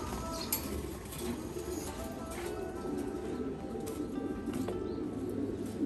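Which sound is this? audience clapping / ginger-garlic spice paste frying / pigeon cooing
pigeon cooing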